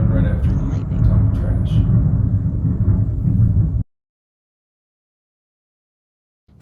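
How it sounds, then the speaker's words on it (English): Thunder from a storm rolls as a loud, low, steady rumble for several seconds and then stops abruptly, leaving near silence until a faint sound returns at the very end. "that thunder's coming right after you talking"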